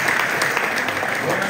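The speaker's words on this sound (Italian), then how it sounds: "Facciamo un applauso a Guido Barilla." Audience applause for Guido Barilla at an Italian event, a dense, fairly loud and even burst of clapping heard briefly on its own.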